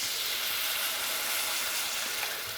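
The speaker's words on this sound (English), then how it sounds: "what we want to do is add a little bit of wine to our pot" Wine poured into a hot pot while cooking bison New York strip: a loud, dense, continuous sizzle with a slight rise and fall and no speech.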